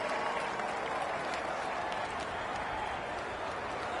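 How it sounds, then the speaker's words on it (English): A crowd applauds and cheers a rider at an individual time trial in the Tour de France 2023 video game, a steady wash of clapping at moderate distance, fairly faint and continuous. "let's give him a cheer"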